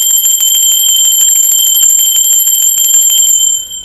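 A loud bell sound effect rings steadily for nearly four seconds, with sustained bright metallic tones and a fast shimmering trill, then fades at the end. No one speaks.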